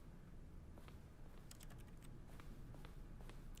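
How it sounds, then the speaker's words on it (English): Clicking a toilet in The Stanley Parable video game sets off quiet keyboard typing, a run of quick irregular keystrokes that clusters midway through over a low steady hum. "Why do keyboard sounds come out when I click on the toilet?"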